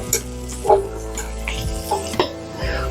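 Kimchi pancake sizzling in a hot pan outdoors, with a few sharp clinks and clatters of utensils on top of the steady fry.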